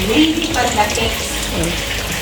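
Steady sizzling hiss of food frying in hot oil, close by and continuous, with a voice faintly underneath.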